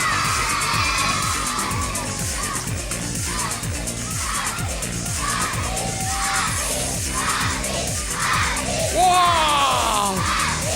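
Children in an audience at a live show about composting cheer, shout and whoop continuously as a loud crowd, with rhythmic clapping running throughout and a burst of excited yelling near the end.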